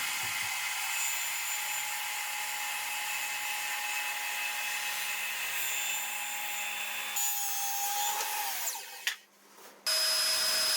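A circular saw runs up to speed and cuts forward through a board with a loud, sustained whine, then the cut ends and the motor spins down before a brief restart.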